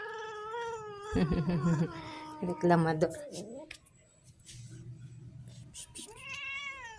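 A neighbor's visiting cat meowing repeatedly, drawn-out close wails and caterwauls with a brief pause midway, while a person talks briefly nearby.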